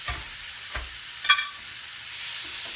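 Steak fajitas sizzle in a hot pan while a wooden spoon stirs them, giving a steady low hiss broken by a few soft scrapes and knocks.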